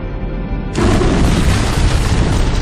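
An antimatter charge explodes aboard a ship in the Halo video game, a sudden loud boom that breaks in after a quieter hum and rolls on as a sustained heavy rumble.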